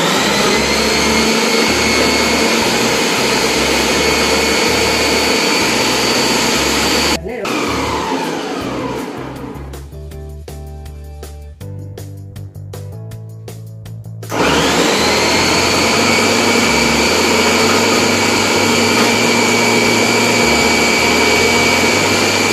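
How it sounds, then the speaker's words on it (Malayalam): A Preethi Zodiac mixer grinder fitted with a lemon juicer whirs loudly, cuts out for several seconds with clatter and a voice in the gap, then whirs again at full speed. "അപ്പോൾ ഇതുപോലെ ഹോൾഡ് ചെയ്തിട്ട് നമുക്ക് മിക്സി ഓൺ ചെയ്യാം."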